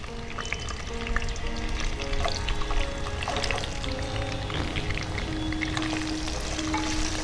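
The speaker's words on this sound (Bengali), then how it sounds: "এবার টুকরো করা আলুগুলো দিয়ে দিচ্ছি।" Potato pieces dropped into hot oil tempered with black cumin seeds, frying with a steady loud sizzle and crackle throughout, along with occasional stirring scrapes.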